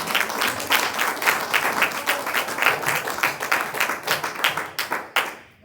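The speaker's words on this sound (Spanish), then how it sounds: "Den un fuerte aplauso a Dios." A church congregation claps together in loud, dense applause that continues steadily for several seconds before quickly fading out at the end.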